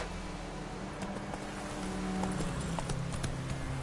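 Roach, a horse in the video game The Witcher 3, gallops with a fast, rhythmic clip-clop of hooves over a dense bed of game ambience and wind, with no voices.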